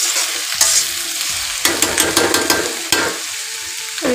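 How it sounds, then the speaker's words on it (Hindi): Vegetables are stirred and fried in a pan, with loud close scraping and clattering of the spoon in several bursts over a continuous sizzle. "सब्जी को 5 मिनट तक ऐसे ही भून लूँगी"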